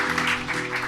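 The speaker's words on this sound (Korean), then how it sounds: "우리 힘차게 박수해 주시겠습니다" Church congregation applauding at an elder and deacon ordination service, a dense steady patter of many hands clapping together for just under a second, even and sustained with no voices on top.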